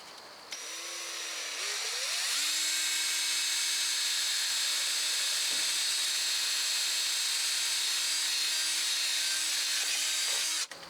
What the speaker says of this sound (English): I'm going to drill 2 holes in the top of this cap